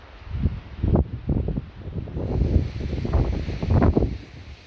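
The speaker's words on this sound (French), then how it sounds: "Le vent, ouais." Gusting wind in a thunderstorm in the Cévennes region, captured in repeated rumbling buffets against the microphone with a rustling quality, rising and falling in uneven surges, fairly loud and close.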